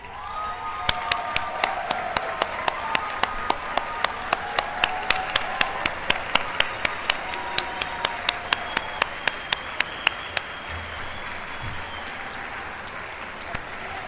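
An audience applauds steadily for the Year Up Bay Area staff, with dense clapping from many hands and a few sharp, close claps standing out. The ovation runs for over ten seconds without fading.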